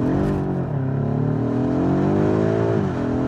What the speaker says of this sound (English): Look at the acceleration with rear wheel drive